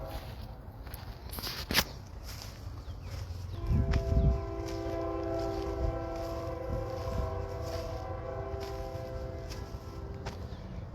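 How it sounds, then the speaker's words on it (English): A train far off in hot Texas countryside sounds a long, sustained horn that holds for several seconds, faint and distant over outdoor ambience, with a few soft footsteps and rustles nearby and no speech. "Now that's a train that's in the distance."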